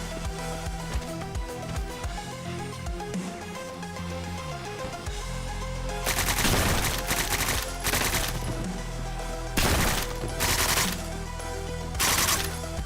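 A video game firefight: guns are fired to shoot out a security camera, with rapid, loud bursts of shots crowding the second half over a dense, busy game soundtrack.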